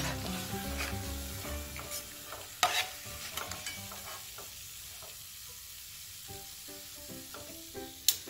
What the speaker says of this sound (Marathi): बघू शकता अशा प्रकारे मी सर्व पापड्या तळून घेते